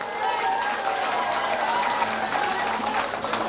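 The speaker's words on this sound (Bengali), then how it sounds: "চন্দন দাদা হাত দেখাও সবার জন্য," Applause from an audience at a school cultural programme at Latu Model HS School, a dense steady patter of many hands clapping continuously, fairly loud and sustained throughout with some crowd noise mixed in.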